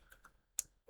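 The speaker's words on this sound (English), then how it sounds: "So I'm going to type find slat." A few light keystrokes on a computer keyboard while entering text into design software, with a sharper click near the end; sparse, close and quiet, with no talking.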